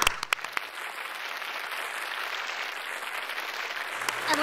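Applause from an audience at a National Philanthropy Day live event, dense even clapping across the room sustained throughout, fairly soft and slightly distant, with a few louder claps at the start and end.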